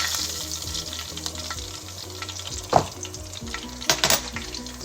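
Pork chops fry in a skillet with a continuous close sizzle, broken by a few sharper pops and utensil knocks as the meat is handled.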